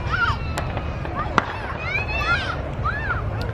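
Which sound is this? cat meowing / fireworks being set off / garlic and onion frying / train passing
fireworks being set off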